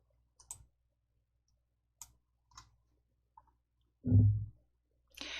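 A computer mouse clicking in a quiet room, with a few sparse, isolated clicks spread apart and one louder dull thump near the end.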